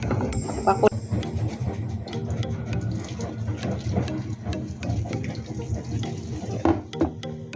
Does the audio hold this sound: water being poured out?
yes